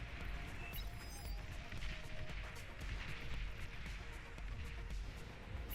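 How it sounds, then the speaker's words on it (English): Artillery fire in the strategy video game Beyond All Reason during an 8v8 battle: a dense, continuous rumble of distant booms and gunfire, with faint battle tones, held at a steady level throughout. "Artillery now starting to come out"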